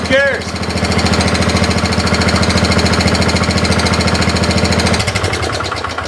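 An old Kohler engine on a Wheel Horse B-80 garden tractor runs steadily and loud up close, with a fast, even knocking chug throughout that drops away near the end.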